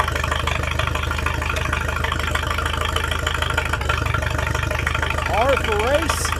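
A Jet Star 3 engine idles with no exhaust pipe fitted, a harsh, steady, rapid putter that runs loud and close throughout while a person speaks briefly near the end.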